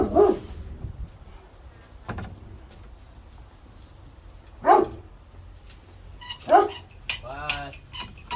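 A dog barks in a few short bursts spread apart, with quieter gaps between them, inside a 2022 Mercedes Sprinter 144WB camper van under conversion, with faint clinks of dishes or metal nearby.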